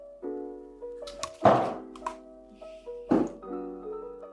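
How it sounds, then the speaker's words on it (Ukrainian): A single heavy thunk against a hard surface, followed by a second similar knock, over a steady tonal hum. "Я розлила воду. I have spilled the water."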